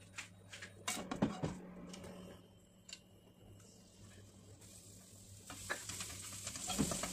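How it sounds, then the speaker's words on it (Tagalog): Enoki mushrooms, soaked in black bean, sauté in a pan with a soft, faint sizzle and occasional stirring clatters, quiet and close with no talking. "Magigisa tayo ng inoki."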